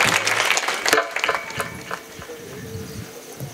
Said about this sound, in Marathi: टाळी होऊ द्या एकदा जरी